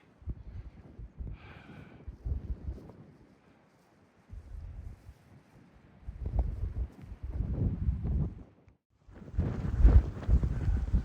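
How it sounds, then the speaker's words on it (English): Strong wind gusts buffet the microphone on a mountain trail, coming in rough bursts separated by brief lulls and building to a heavy final blast. "boy, the wind gets to gusting"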